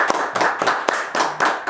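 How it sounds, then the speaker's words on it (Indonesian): A small group claps for Bapak Roni on a Bawaslu Temanggung election podcast, with about half a dozen distinct, evenly paced claps, close and clear with no talking. "Kita berikan aplaus yang meriah untuk Bapak Roni."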